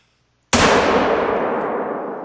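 A single loud rifle shot from the hunting game theHunter at Medved Taiga cracks out sharply after a near-silent pause, followed by a long echoing rumble that slowly fades.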